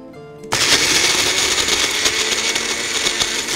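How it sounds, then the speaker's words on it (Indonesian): An electric kitchen blender grinding shrimp paste, tomato and salt switches on after a brief pause and runs loud and close with a steady, coarse whirring roar. "kemudian juga kita masukkan 1 sendok teh garam, kemudian kita tutup, kita haluskan ya sahabat ya."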